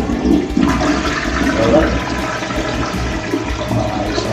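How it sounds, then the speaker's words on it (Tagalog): Toilet flush in a restroom at a lemon pie house in Sagada, a loud rushing, gurgling surge of water filling the whole stretch, with a brief word spoken over it. "Maayos na flush."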